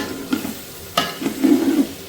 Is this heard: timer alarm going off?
no